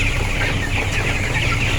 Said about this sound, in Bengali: মুরগিগুলো সব ঠান্ডা চঞ্চল